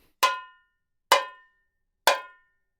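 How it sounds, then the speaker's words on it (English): Three single tamborim strikes with a stick in the centre of the small Brazilian frame drum, each a sharp, bright metallic-edged crack with a short ringing decay, evenly spaced about a second apart, close and alone. "the first note, it's just hitting the drum in the middle, like so"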